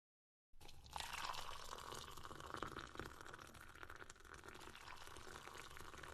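A splash of Ciroc vodka poured into a glass for a Flamingo Spritz cocktail, giving a faint, steady liquid trickle that runs several seconds after a brief silence.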